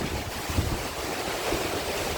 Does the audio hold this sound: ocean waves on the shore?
yes